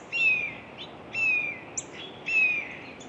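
A blue jay mimics a female Cooper's hawk, repeating a high, thin, descending call three times at even intervals against quiet outdoor air.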